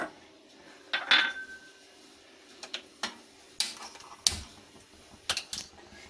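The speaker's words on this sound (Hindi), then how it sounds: "शक्कर घुल जाए इस तरह ज़रा चम्मच हिला दीजिए।" A metal spoon stirring sugar in a pot while making sher khurma, a sweet dish, giving scattered light clinks and taps against the pot at irregular intervals, close and fairly quiet with no talking.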